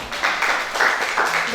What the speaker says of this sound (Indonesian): Oke, kasih tepuk tangan dulu buat kelompok.